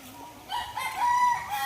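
Native chickens cluck and a rooster crows in short bursts, close and fairly clear against a quiet outdoor background.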